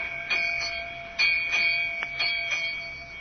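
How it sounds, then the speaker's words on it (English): A ship's bell striking eight bells, several ringing metallic strikes in pairs with lingering tones, fairly loud and clear over a low background hum. "8 bells. 8 o'clock in the morning."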